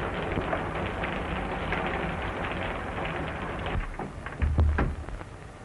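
Rain falling outside in a 1931 film, a steady rushing patter across the whole span with a few louder thumps near the end.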